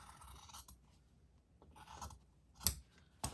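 Scissors cutting fabric for a DIY patriotic gnome craft, a few quiet close snips and soft scraping rustles spaced out over a few seconds.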